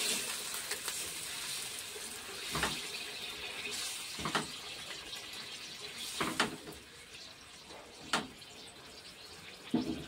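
Water is poured from a tap or jug into a pan of eggplant set to boil for a Bengali kasundi dish, a steady splashing flow with a few sharper clinks, at moderate distance with no talking.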